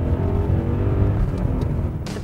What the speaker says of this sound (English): all you have to do is put your foot down and hear that engine roar